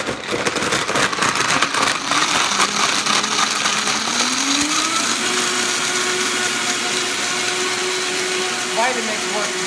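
A Vitamix blender whirs loudly and steadily while blending a thick tahini-date dip, its motor pitch rising as the speed is stepped up partway through, with a brief bit of clatter near the end.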